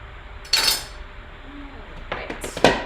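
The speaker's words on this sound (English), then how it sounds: "I'm just gonna mix the sunchokes with the beet here just slightly" Sliced sunchokes and beet are tossed together in a salad bowl, giving a few sharp clinks and knocks of a utensil against the bowl over quiet kitchen background.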